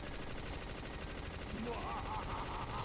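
Gunfire in Black Ops 3 Zombies on a Spyro-themed challenge map, a rapid stream of shots under a dense game soundtrack, steady and fairly faint in the mix.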